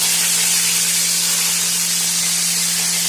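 Curry leaves hitting hot oil during tempering give a loud, steady hiss and sputter that fills the whole moment evenly, with a low constant hum underneath and no talking.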